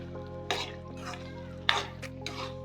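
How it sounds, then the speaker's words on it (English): Green beans are stirred into a pot of bean stew, with a few short scraping stir strokes over a low steady background hum. "Then we can also add the green beans at once if you like. Then we stir it nicely."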